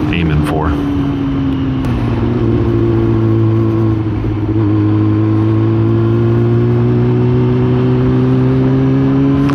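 A motorcycle ridden along a road through fall scenery, its engine droning loud and steady up close with a brief rev shift near the start and constant wind and road roar throughout.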